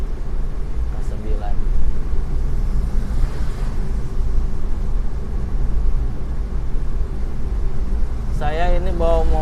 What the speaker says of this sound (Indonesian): Saya ini bawa mobil